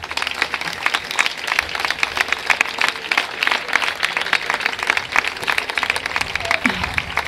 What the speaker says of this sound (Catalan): que també els hi dediquem un fort aplaudiment.